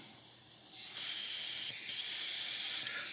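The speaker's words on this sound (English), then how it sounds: "sorry about the air compressor here" Airbrush hissing out paint for model-kit weathering on a 1/48 M1A2 Abrams tank body, a steady broad spray hiss that swells after a quieter start, with an air compressor running underneath, close and continuous, no voices.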